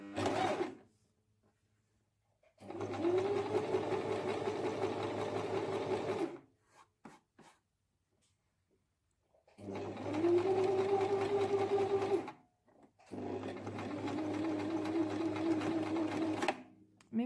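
Sewing machine stitching a fabric bag organizer, running in three steady bursts of a few seconds each separated by quiet pauses, close and clear with a low motor hum and rapid needle chatter.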